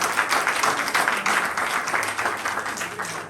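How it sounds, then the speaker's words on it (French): A church congregation at a Sunday service claps together in a dense, steady round of applause that stays loud and even throughout, with a faint murmur of voices beneath. "Applaudissez,"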